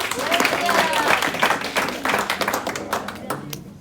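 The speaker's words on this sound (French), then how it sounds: "Est-ce qu'on peut applaudir William?" A congregation at a church family celebration applauds, producing dense, lively clapping that thins toward the end, with voices talking over it.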